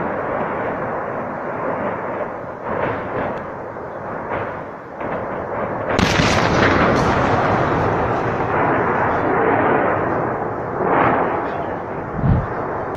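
A blown-up weapons depot in Ukraine's Kherson region sends out a sustained, rumbling roar of explosions, a loud low boom surging midway and further thuds rolling over the continuous dense noise.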